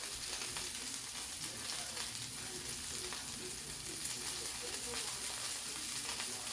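Butter melts on top of a pan-seared NY steak, giving a steady close sizzle and frying hiss that continues evenly without pause.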